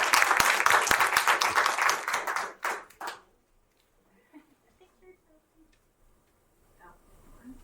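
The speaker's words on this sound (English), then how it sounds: "let's give a big round of applause to our Above and Beyond" Applause from attendees at a regular board meeting rises into dense clapping for about three seconds, thins into a few last claps, and then the room falls almost silent.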